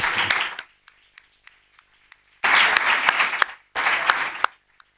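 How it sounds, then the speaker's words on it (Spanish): Conference audience breaks into applause in bursts: a brief clap fades into scattered single claps, then two loud, dense rounds of clapping follow, fairly close and without talk. "El aplauso es por las cosas malas que suceden en Bosnia y Herzegovina"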